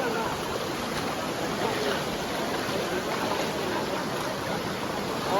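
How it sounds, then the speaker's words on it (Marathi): Kalu waterfall pours steadily in a broad, continuous rush of falling water, loud and unbroken throughout, heard close by from the trail with no clear voices over it. "हा आहे आपला काळू वॉटरफॉल"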